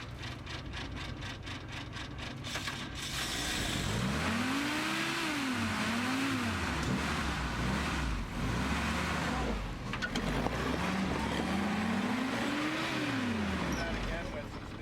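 A Jeep engine revs hard while climbing an off-road obstacle at Tuttle Creek ORV Park in Kansas, its pitch surging up and down in two long waves of throttle. The steady, close engine roar continues underneath.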